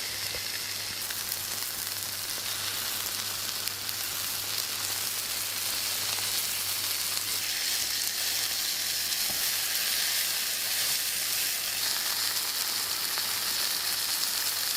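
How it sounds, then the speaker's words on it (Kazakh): Chicken breast sizzles in melted butter in a pan, a loud, steady frying crackle that runs unbroken throughout with no voices. "етімізді екінші жағынан аударып қуырамыз"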